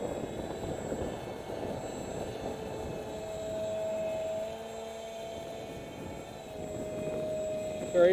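A small RC foam F-22 model plane with an electric motor gives a steady whine that rises and falls gently as it flies in wind, with wind noise and a person talking nearby.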